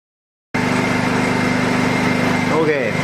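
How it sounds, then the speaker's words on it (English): A Honda 2000i inverter generator, brand new and on its first start, kicks into life after silence and then runs steadily at close range with a loud, even engine drone. "We'll give it a few pulls and see how long it takes to start."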